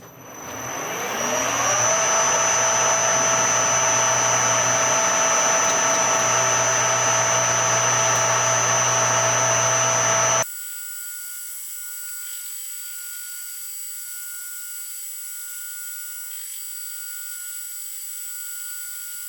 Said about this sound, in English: So I'm gonna cut to rough length and bore it out